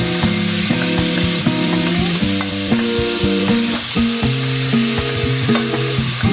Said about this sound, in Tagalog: hayaan po muna natin siyang igisa hanggang sa maluto po ang ating ground beef or giniling na baka